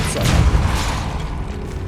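A Depulso force spell cast in Hogwarts Legacy, a loud, deep whooshing boom that swells quickly and then fades into a rumbling tail.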